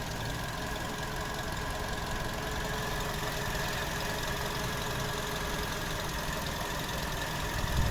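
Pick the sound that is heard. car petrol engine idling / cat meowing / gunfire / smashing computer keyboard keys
car petrol engine idling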